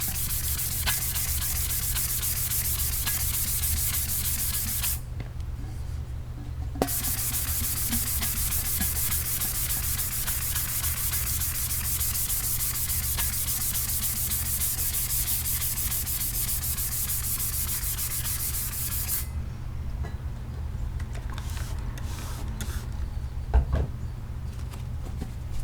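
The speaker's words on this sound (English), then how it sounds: "when you sand a tumbler, all this comes off" Steady, continuous sanding of a tumbler's glossy outer coating, a close, even abrasive rub that runs unbroken throughout with only brief tonal shifts, and no voices.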